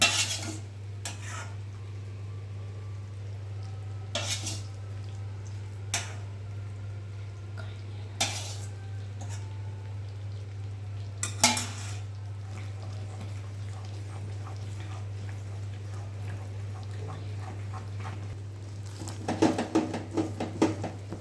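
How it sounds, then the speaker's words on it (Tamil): A spoon scrapes and clinks against a pan while Mysore pak mixture of gram flour, ghee and oil is stirred continuously, sharp intermittent knocks over a steady low hum, with a busier burst of scraping near the end. "நல்லா கைவிடாமல் கிண்டிக்கிட்டே இருக்கணும்"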